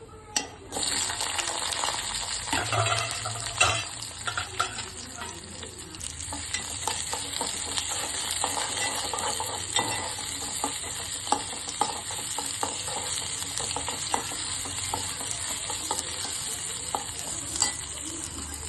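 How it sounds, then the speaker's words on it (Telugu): Onions with fenugreek, cumin and mustard seeds frying in oil in a pan for a prawn curry, a steady loud sizzle with frequent spoon scrapes and stirs throughout. "ఇదిగండి ఉల్లిపాయ వేగింది."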